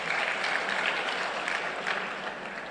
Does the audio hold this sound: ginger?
no